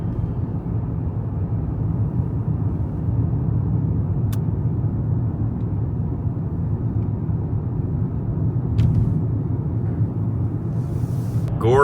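Steady interior road noise from a car driving snowy roads around Killington, Vermont, a continuous low rumble of engine and tires with a couple of faint clicks, no talking.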